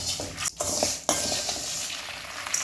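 A spoon stirs garlic and dried chillies dry-roasting in a hot pan for idli podi, giving steady scraping and rustling with a soft sizzle and occasional light clinks against the metal, close up with no talking.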